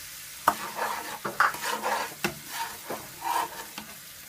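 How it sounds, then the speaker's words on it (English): A whisk or spoon stirs heavy cream, brown sugar and cinnamon for peach French toast, with sharp taps against the bowl and swishing strokes in an uneven rhythm, close and with no speech. "Give it a stir."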